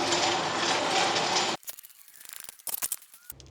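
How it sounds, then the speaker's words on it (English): A jack raises a 2024 Ford Ranger Raptor truck, first with a dense rapid ratcheting clatter, then a pause and a run of sharper separate metallic clicks close by, with no talk. "I'm just jacking up the rig right here"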